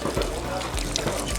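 Water poured over hot car brakes to cool them, a continuous splashing hiss with people talking over it.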